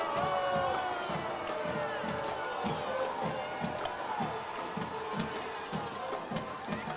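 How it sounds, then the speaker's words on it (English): Home crowd of the Robinson Senators at a semifinal playoff high school football game reacting to a holding penalty flag, a steady loud roar of voices and shouts with rhythmic thumping underneath, continuous throughout. "you can just hear the Senator crowd. I don't think they like the call."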